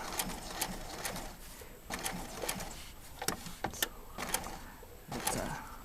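A sewing machine stitches fused applique in quiet, uneven runs of mechanical whirring and clicking close by, with short pauses between bursts.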